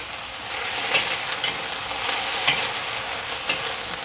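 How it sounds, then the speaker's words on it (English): Steady sizzling of green beans being stir-fried in a hot wok, with occasional scraping and tossing clinks, continuous and fairly close. "you can just keep stir frying them just like this after you take the cover off"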